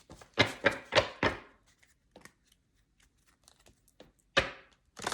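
A deck of cards shuffled three times, brisk riffles close by in short bursts, separated by quiet pauses.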